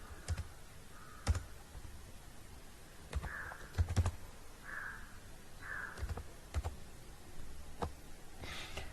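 A computer keyboard is typed on while entering an OTR number into a scholarship form, with scattered sharp key clicks at an irregular pace over low room noise, and faint caws heard in the distance.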